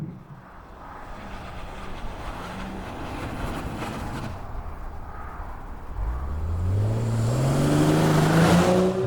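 A 2025 BMW M240i engine hums, then revs rising sharply as the car accelerates hard, loud and close.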